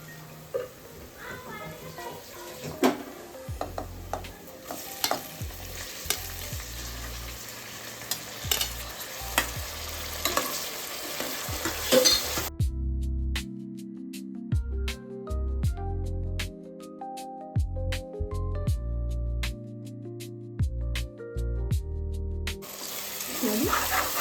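Tomato goes into browned onions in a pan of oil for a South Indian mushroom biryani, sizzling and frying steadily while a spoon stirs and scrapes in irregular strokes, close and fairly loud.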